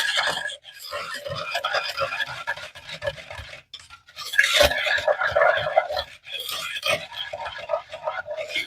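A spoon stirs a pinch of salt into chocolate milk, scraping and ticking steadily against the glass, with one louder scrape midway and a voice talking over it.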